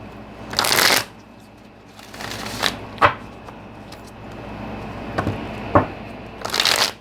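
Tarot cards being shuffled in several separate bursts of riffling and sliding, close and fairly loud, with quiet pauses and soft handling noises between them.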